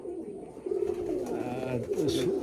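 Pigeons coo in a loft, several soft throaty rolling calls overlapping up close, with a continuous murmur of other birds and faint rustling behind.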